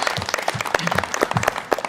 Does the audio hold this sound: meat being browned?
no